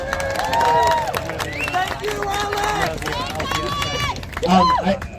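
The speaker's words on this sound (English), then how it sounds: "Give yourselves a big round of applause." An outdoor crowd at a doctors' strike rally in a Gisborne park cheers and claps, with excited whoops and shouting voices rising over a continuous bed of applause that swells again near the end.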